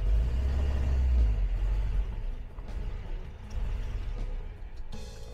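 A 1976 Land Rover Series 3 ambulance engine idles while warming up, a steady low rumble that is loudest at first, then settles into a softer, uneven running note with light clatter.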